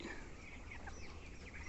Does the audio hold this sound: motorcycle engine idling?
no